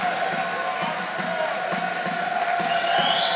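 Crowd noise swells steadily through a college men's basketball game gym during a free throw, a continuous roar with some cheering, heard along with voices.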